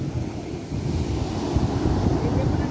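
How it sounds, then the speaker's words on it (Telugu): Sea waves wash onto a beach in Kerala in a continuous, rumbling surf roar, with heavy wind buffeting the microphone throughout. "అవును బాలు, వారానికి ఒకసారి ఈ సముద్రం ఒడ్డుకు వచ్చి ఈ వాతావరణాన్ని ఆస్వాదిస్తుంటే చాలా సంతోషంగా ఉంటుంది."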